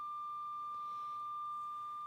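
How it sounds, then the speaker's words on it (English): A Thermomed treatment device emits a steady, pure electronic tone on reaching treatment temperature, faint but continuous against a quiet room. "If you hear now, it's beeping, because what we've done is we've reached treatment temperature."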